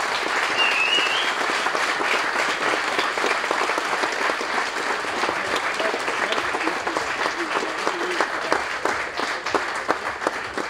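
An audience at a meeting about the Limfjord applauds a panel with sustained, even clapping that runs loud and dense for over ten seconds, with faint voices underneath.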